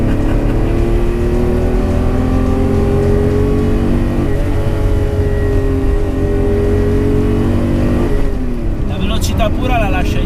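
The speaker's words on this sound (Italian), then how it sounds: "Chiudere questo video col sottofondo di un 12 cilindri aspirato" Naturally aspirated 12-cylinder engine of a Ferrari Testarossa revs loudly and up close, its pitch climbing and falling in sustained sweeps, with a brief rising snarl near the end.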